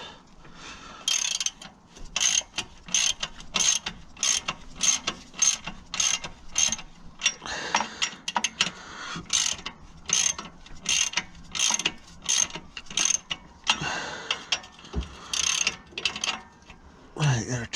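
A ratchet tightens bolts on a Suzuki Jimny during exhaust and brake work, with rapid rhythmic clicking bursts in short runs and brief pauses between them.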